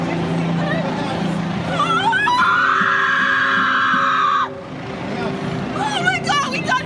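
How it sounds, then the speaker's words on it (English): A woman's long, piercing scream rises over a murmuring street crowd in Charlottesville after a car struck people, holding for about two seconds before breaking off, with crowd voices continuing around it. "Oh my God, we got hit by a car!"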